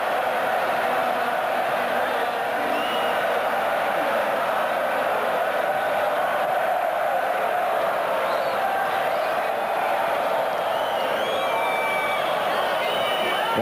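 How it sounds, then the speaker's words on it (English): Spanish football crowd roaring continuously after a goal in a stadium, a broad steady wash of cheering and whoops with no clear breaks. "the Spanish crowd loving that"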